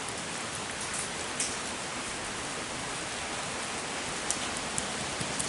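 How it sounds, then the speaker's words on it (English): Steady rain falls outdoors in a broad, even hiss, with a few sharper drops tapping nearby throughout. "Yeah, that's because it's raining."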